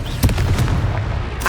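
A Confringo blasting spell from the Hogwarts Legacy game goes off in a couple of sharp, booming bursts close up, one after another, with a rumbling low tail and a final crack at the end.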